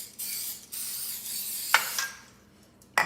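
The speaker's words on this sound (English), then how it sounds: "So I'm going to just spray the muffin tin with coconut oil." Short hissing bursts of coconut oil cooking spray close by onto a muffin tin, followed by a couple of sharp metallic clicks in a quiet room.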